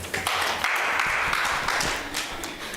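An audience at a business expo claps and applauds steadily for a few seconds, a dense patter of many hands at moderate distance, with no speech over it.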